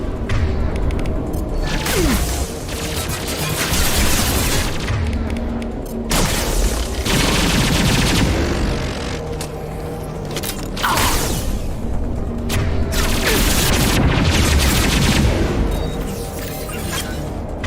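Combat gunfire in the video game Mass Effect 2 Legendary Edition, loud repeated shots and heavy thuds with impacts and booms, dense and continuous over a busy battle soundscape.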